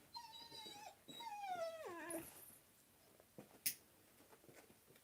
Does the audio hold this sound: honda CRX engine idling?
no